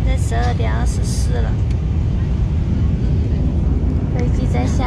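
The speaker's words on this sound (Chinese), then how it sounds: "飞机在下降" A loud, steady roar of airplane cabin noise during descent toward Lijiang fills the whole clip, with people talking over it.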